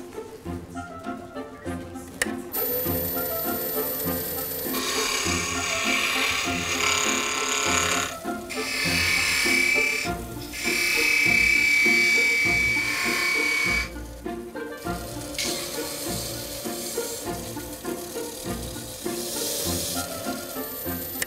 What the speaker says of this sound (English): My work on the lathe finished.